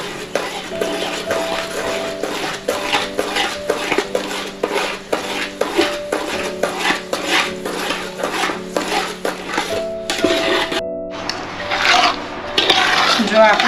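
A spoon scrapes and clinks rhythmically against a metal pan while adadiya mixture with cardamom powder is mixed. Steady close strokes repeat about twice a second, then give way to a rougher rubbing at the end.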